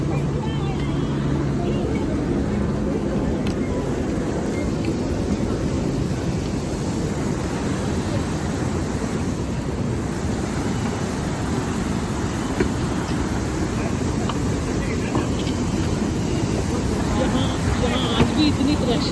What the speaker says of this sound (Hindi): आज भी इतनी प्रेशर से पानी आता है।